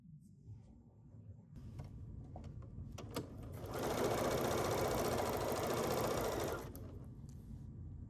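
A domestic sewing machine, a model 335 with adjustable presser foot pressure, stitches a free-motion quilting path across a quilt; a few seconds of clicking lead into a loud, steady, whirring run of several seconds that then stops.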